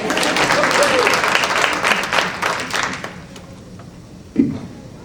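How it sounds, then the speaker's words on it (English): An audience at a Women's History Month celebration at Rutgers Newark breaks into dense applause that fades over a few seconds, ending with a single loud clap as someone begins speaking. "Hand clap."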